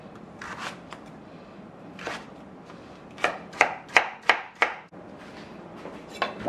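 Knife chopping vegetables into little cubes on a cutting board for a vegan vegetable wild rice soup; a run of five sharp, evenly spaced chops stands out clearly after a few softer scattered cuts.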